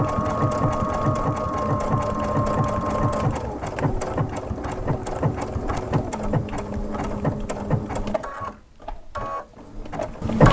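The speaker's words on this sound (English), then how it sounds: "we're going to sew around this, just going on the inside" A domestic sewing machine stitches around the inside edge of a reverse appliqué, running at a steady, fast mechanical chatter close up, then slowing and briefly stopping near the end before starting again.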